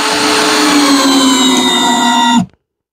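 Power drill with a torque bit driving a 2.5-inch screw into a cherry wood scrap block, a steady loud motor whine with rising pitch for over two seconds, then stopping abruptly.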